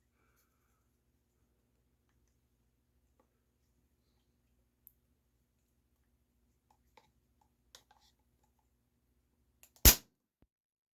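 Beeman P17 Deluxe pellet pistol dry-fired with no pellet loaded: one sharp, loud snap of air near the end, preceded by a few faint clicks of handling in quiet surroundings.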